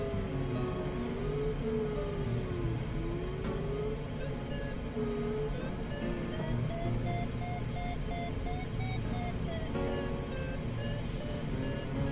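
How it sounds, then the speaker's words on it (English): Glider cockpit instrument in Microsoft Flight Simulator 2020 gives steady repeated electronic beeps, varying tones pulsing throughout over a continuous airflow hum, flying over Mexico. "And a fair amount of beep beeps here."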